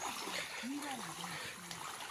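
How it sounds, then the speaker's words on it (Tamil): River water flows along a channel on a village road, a steady close rushing wash. A voice speaks briefly over it. "இந்த தண்ணி தான் காய்ஸ் ஆற்றுலேருந்து வர தண்ணி"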